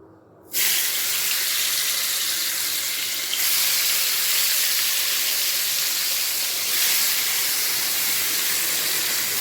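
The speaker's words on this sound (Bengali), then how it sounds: "তেল গরম হয়ে গেছে এরপর মাছগুলো ছেড়ে দেবো" Fish sizzling steadily in hot mustard oil in a pan, a loud continuous hiss that starts abruptly as the pieces go in and holds at an even level throughout, with no talking.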